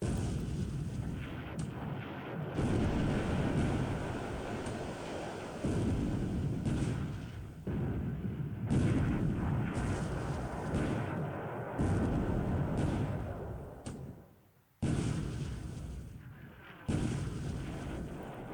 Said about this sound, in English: And the next 4-inch shell hit.